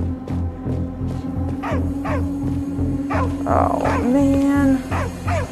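A dog in the video game Arizona Sunshine 2 gives yips and a drawn-out whimper over a steady low game hum, with someone briefly speaking nearby.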